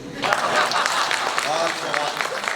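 Audience applause at a Hindi kavi sammelan poetry recital in Pandhurna, a brief burst of clapping from a crowd filling the room, with a voice speaking over it.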